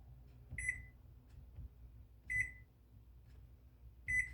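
Kitchen timer being set for 75 minutes as meatloaf goes in the oven: three short, high electronic beeps spaced about two seconds apart, clear and close over faint background noise.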